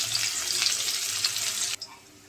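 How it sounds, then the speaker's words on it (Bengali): Onions with nigella seeds sizzle steadily in hot oil in a home kitchen, a close, even frying hiss that cuts off sharply near the end, leaving a quieter background. "দেখো পেঁয়াজটা ভাজা হয়ে গেছে"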